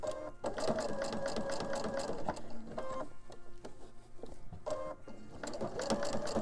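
A sewing machine runs a very short 1.6 mm stitch slowly around the hand of a cloth doll, a steady close mechanical whir with brief pauses and restarts, no voices.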